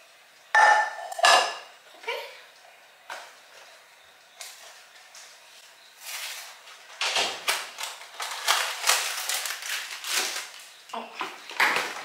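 A metal pot being handled in a home kitchen while making cookie dough, with several sharp clanks and scrapes at the start and a busy stretch of clattering later, close and fairly loud.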